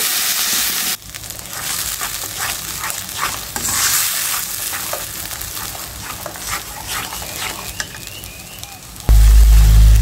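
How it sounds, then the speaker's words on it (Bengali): Tomato-onion paste with green chili and whole cumin sautéing in a hot pan, a steady close sizzle with scraping stir strokes throughout, ending in a sudden loud low burst. "যে টমেটো পেঁয়াজের পেস্ট করে নিয়েছি কাঁচামরিচ, এটা আমি দিয়ে দিলাম। সুন্দর করে কষিয়ে নেব।"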